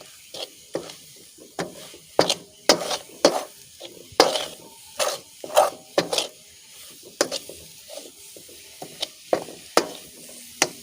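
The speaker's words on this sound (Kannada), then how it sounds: "ಇವಾಗ ನಾವು ಚೆನ್ನಾಗಿ ಮಿಶ್ರಣ ಮಾಡಿಕೊಳ್ಬೇಕು" A coconut and jaggery-syrup filling for kayi holige being mixed in a pan, a steady rhythm of scraping, knocking stirs with soft sizzling between strokes, close and clear with no talking.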